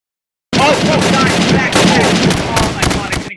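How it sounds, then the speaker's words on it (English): Rapid bursts of video game gunfire, with shots cracking in quick succession and dense overlapping volleys through the stretch, loud and close. Brief chatter sits under the shooting. "I hear more gunshots."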